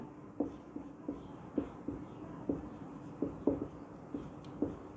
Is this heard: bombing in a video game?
no